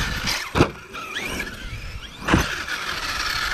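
An Arrma Kraton EXB 6S radio-controlled car launching off a ramp, its electric motor whining and rising in pitch, with two sharp thumps and bursts of noise as it lands and scrabbles.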